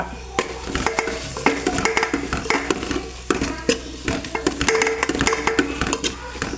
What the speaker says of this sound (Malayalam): അപ്പം അതും കൂടി യോജിപ്പിക്കുക